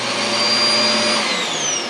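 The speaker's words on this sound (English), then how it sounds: "below you have a central vac system" A central vacuum system in a 2021 Hideout travel trailer runs steadily at close range with a constant whine and airy roar, the pitch easing slightly downward toward the end.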